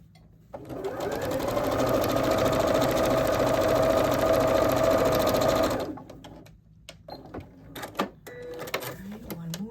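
A sewing machine stitches quilt block pieces for a petal-pattern block in one steady, loud whirring run that stops suddenly, followed by quieter handling clicks and soft rustles.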